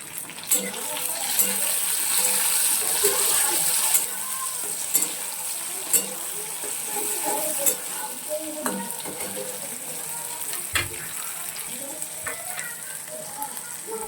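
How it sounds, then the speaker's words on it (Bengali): Tomatoes stirred and frying in a pan with lightly browned onions, a steady close sizzle broken by scraping stirs and occasional clicks of the spoon, with faint talk at times. "এবার আমি এটার মধ্যে টমেটোগুলো দিয়ে একটু সামান্য নেড়ে চেড়ে নেব।"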